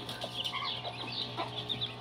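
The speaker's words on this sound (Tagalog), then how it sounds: "Nandito po sila sa lilim yung ating mga manok." Native chickens resting in the shade on a hot day cluck softly and repeatedly, with several birds calling in an uneven rhythm over a low background hum; no one speaks.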